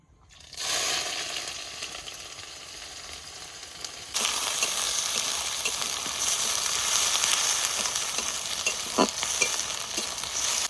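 Chopped onion with bay leaf, cumin seeds, cinnamon, cardamom and cloves frying in a pan, a steady sizzle that grows louder and brighter partway through, with occasional stirring clinks.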